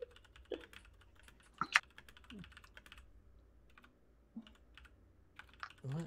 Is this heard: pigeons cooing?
no